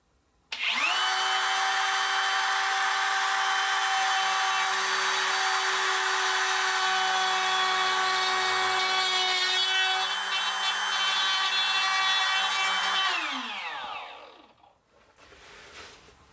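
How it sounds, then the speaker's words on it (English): A trim router fitted with a 1/4-inch straight bit whines steadily at high pitch as it plunges and cuts a mortise in wood, one continuous close run for about 13 seconds before spinning down. "I have a 1/4 inch straight bit in my trim router, and I'm going to start on a tilt here"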